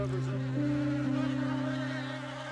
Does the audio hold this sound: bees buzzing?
yes